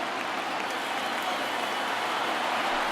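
Stadium crowd of over 39,000 on its feet in MLB The Show 19, a dense, steady roar of cheering and applause holding at an even loudness for the whole stretch.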